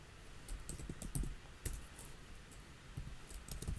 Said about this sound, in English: Let me just type the script.